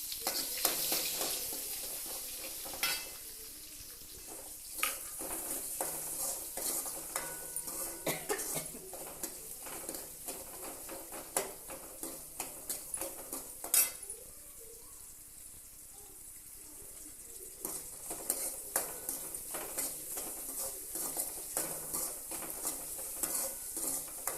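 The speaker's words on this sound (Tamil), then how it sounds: "வெங்காயம் நல்ல பொன்னிறமாக வதக்கணும்." Onions sizzle steadily in a hot pan while a spoon stirs and scrapes against the metal; no talking.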